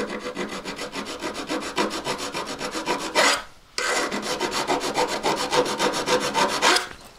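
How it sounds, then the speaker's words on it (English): A half round file rasps across a ring collet in rapid, regular strokes, a dense scratchy rhythm that pauses briefly mid-way, then resumes, close and clear without speech. "Try to only file the collet"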